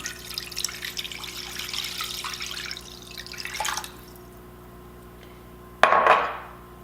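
Chicken broth and water poured into a casserole pan, a trickling, splashing stream for several seconds that tapers off, followed by a sharp clink of a container against the pan.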